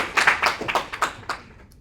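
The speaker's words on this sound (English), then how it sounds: "Give yourselves a round of applause." A few scattered hand claps from a small class of beginner C++ students, sparse and uneven, fading out within a couple of seconds.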